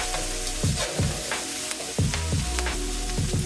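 Collard greens sizzle and fry in a pan as they wilt and reduce. A steady hiss runs throughout, broken by repeated soft stirring scrapes and clatters, close and moderately loud with no talking.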